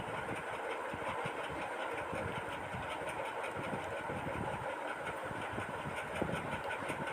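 A sewing machine stitching a simple suit (kurti) runs in a steady, continuous whirr with a fast, even needle rhythm, moderately quiet and without talk.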